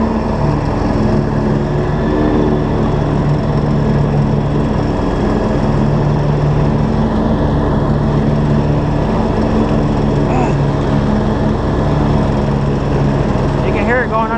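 A lawn mower engine runs under load while mowing a yard. It drones steadily and loudly for the whole stretch, with a voice talking over it.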